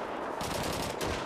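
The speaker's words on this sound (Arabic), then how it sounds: "هاي كله صوت الماشين جان" Rapid machine gun fire in the video game Call of Duty 2, a loud, dense burst of repeated shots that continues through the clip.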